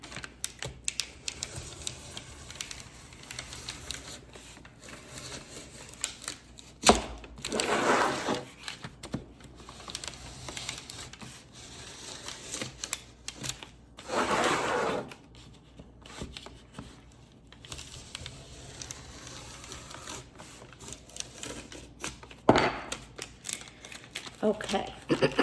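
A blade scrapes and tears through paper pressed against a picture frame edge, with intermittent scratchy cutting strokes and rustling, fairly quiet, with occasional talking.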